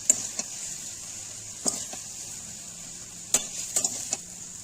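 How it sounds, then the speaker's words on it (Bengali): Susuni greens stirred and fried in a pan, a steady soft sizzle broken by several sharp scraping clinks of the spatula against the pan, close and fairly quiet with no talking. "যত ভালো করে শাক নাড়াতে পারবেন ততই শাক ঝরঝরে হবে"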